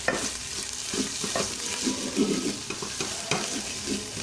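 Fenugreek leaves and ginger garlic paste fry in oil for aloo methi, a constant close sizzle punctuated by repeated stirring scrapes.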